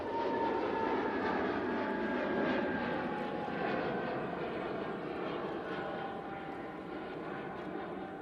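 An Emirates airliner moves along at Manchester Airport, heard as a faint, steady, distant engine rumble that slowly fades, with no voices over it.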